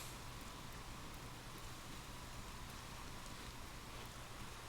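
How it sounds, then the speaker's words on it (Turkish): Steady, quiet rainfall hisses evenly throughout in the video game Sifu, a stormy night scene, a soft continuous wash of drops with no voices or other events. "Bayağı da yağmurlu fırtınalı bir hava var."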